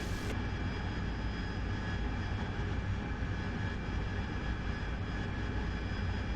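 A Spitfire's engine in a flight sim game, a loud, steady droning roar with a constant low rumble that holds evenly throughout, with no voices.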